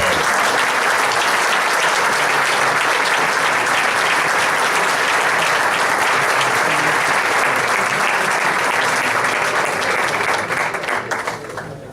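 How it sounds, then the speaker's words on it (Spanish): Sustained loud applause from a crowd at an engineering gala in Vigo, steady clapping throughout that tapers off slightly at the very end. "Un aplauso para doña María Luisa Brandt, colegiada número 766."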